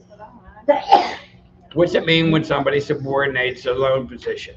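A single sharp sneeze bursts out close by, then a person talks steadily for several seconds after it.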